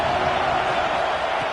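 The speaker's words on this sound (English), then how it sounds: "This crowd ready to make its presence known." Steady roar of a large stadium crowd cheering at an American football game, loud and sustained without breaks.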